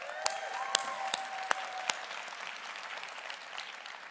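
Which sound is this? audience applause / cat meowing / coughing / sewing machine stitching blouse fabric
audience applause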